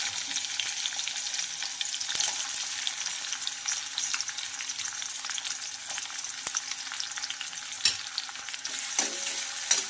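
Chopped onion fries in hot oil for a capsicum curry, giving a steady close sizzle with occasional soft stirring clicks throughout, no voices.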